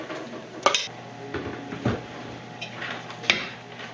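Potato pancakes cook in a pan, with a soft sizzle beneath sharp intermittent clinks and scrapes of a utensil against the pan, close and fairly quiet.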